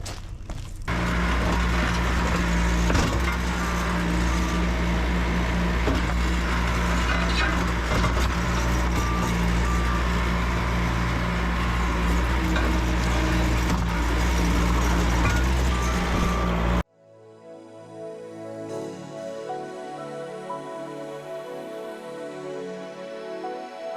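A small T450 machine with a beak attachment tears out concrete during drainage work, a loud, steady diesel drone with grinding and cracking for most of the stretch, then cutting to a quieter, tonal mechanical passage.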